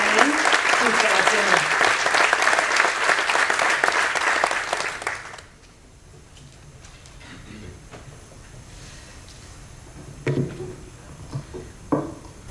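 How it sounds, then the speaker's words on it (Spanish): Applause for an honoree at a civic medal ceremony in Sagunto, loud and dense for about five seconds before breaking off abruptly, followed by a quiet room with a few faint knocks and rustles. "Un fort aplaudiment per a Concha."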